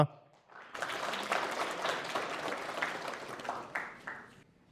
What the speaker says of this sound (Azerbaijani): Gəlin elə vaxt itirmədən Fərid bəyimə səhnəyə dəvət etmək istəyirəm. Sizin alqışlarınızla.